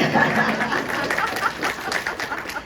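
Audience at a Democratic gubernatorial candidate forum clapping, a steady wash of many hands close by and fairly loud, mixed with scattered chatter and light laughter throughout.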